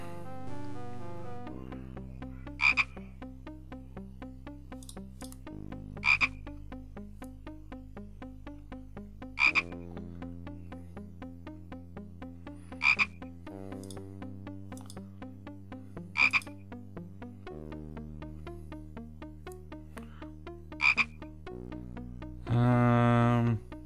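Frog croaking in the adventure game Simon the Sorcerer, set in Sordid's Castle: six sharp, evenly spaced croaks cut through a steady looping game soundtrack, ending with a louder burst of game sound.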